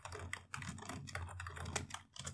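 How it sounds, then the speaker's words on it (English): Rapid clicking of computer keyboard keys, steady and close, with dense irregular keystrokes filling the whole stretch and no speech. "So when I start typing here"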